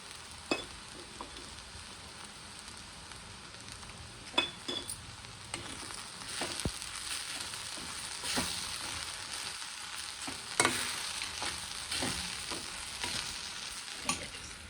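Roasted gram being stirred and fried in a pan, a steady soft sizzle with scattered sharp scrapes and clicks of a utensil against the pan, close and moderately quiet, with no talking.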